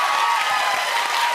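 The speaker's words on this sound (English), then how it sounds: "I love applause for that." Studio audience applause on a podcast taping, a dense steady wash of clapping held at an even level across the short span with no voices over it.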